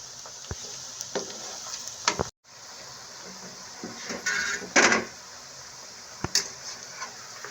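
Capsicum pieces frying in oil in a pan: a soft, steady sizzle broken by sharp clicks and scraping from stirring, with one brief gap and a few louder crackling bursts.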